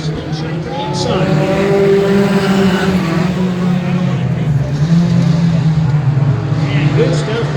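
Mini trucks racing around a dirt track at night, a loud sustained engine roar with shifting pitch as the trucks run through the turns, an announcer calling the action over the noise.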